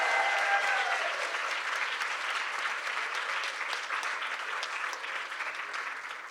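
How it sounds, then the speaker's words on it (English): An audience at a community forum on homelessness bursts into enthusiastic applause, a dense, even roar of clapping that holds steady and tapers slightly at the close. "Now that's an enthusiastic applause for everybody, including Monique"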